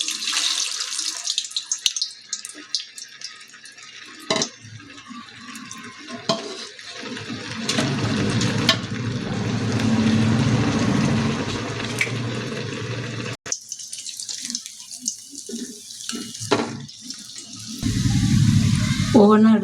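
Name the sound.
methu vadai frying in hot oil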